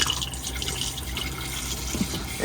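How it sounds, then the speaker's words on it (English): A motorhome cassette toilet in an Elddis Signature CV40 flushes with a steady, close rush of running water and trickling that continues throughout, with no talking. "Then when you're finished, obviously you can give it a good flush."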